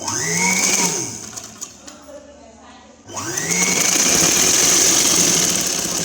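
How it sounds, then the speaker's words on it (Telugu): A sewing machine runs in loud, steady bursts while stitching the front panel onto a long umbrella-style frock, pausing briefly midway before resuming with a continuous whirring hum. "ఇలా ఫ్రంట్ సైడ్ కూడా దీని మీద పెట్టేసి ఒక స్టిచ్చింగ్ వేస్తున్నాను."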